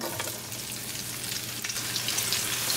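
Onion and cumin seeds sauté in hot olive oil for a rice pilaf, giving a steady, close sizzle that holds evenly throughout with no voices.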